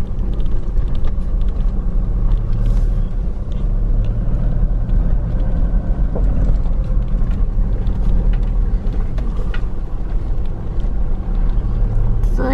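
A car creeps slowly along a bumpy, potholed county road, producing a steady, loud low rumble of engine and road noise throughout with no clear breaks.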